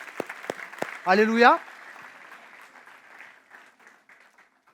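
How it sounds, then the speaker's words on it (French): A church congregation applauds the Lord. A few sharp claps are followed by a voice calling out, then scattered clapping fades to a faint murmur. "on peut applaudir le Seigneur"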